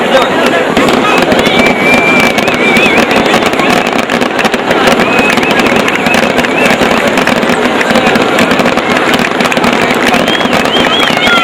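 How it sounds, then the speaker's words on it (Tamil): Fireworks display on the bank of the Ganges, heard as a loud continuous crackle and popping of bursts with whistling rockets, mixed with boat engine rumble and voices of a crowd. "கங்கையின் அக்கரையில் சுமார் 1 மணி நேரம் வான வேடிக்கைகள் நடைபெற்றது"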